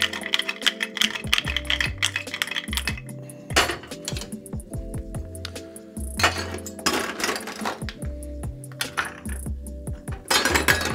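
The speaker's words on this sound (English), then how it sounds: "You can just give it a quick shake" A cap shake of a cocktail shaker with ice for a champagne cocktail: irregular bursts of clinking, rattling ice against metal, close and fairly loud, with several short shakes and pauses.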